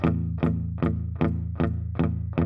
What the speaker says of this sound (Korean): 소리가 안 나는 게 아니고 이게 뮤트된 소리라고 하죠?